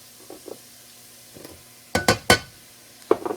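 A spoon stirs flour into onion sautéed in butter in a pot, soft scraping strokes followed by a few sharper clinks and scrapes against the pan, close and intermittent without speech.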